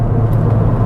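A Ford Fiesta ST 1.6 turbo accelerating, heard as a brief, loud, steady low engine drone from inside the car, with no talk.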